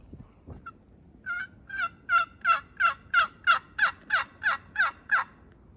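A wild turkey in a Wisconsin field gobbles in one long rising call with a rapid series of about a dozen loud, evenly spaced pulses, heard close and clear with no talking.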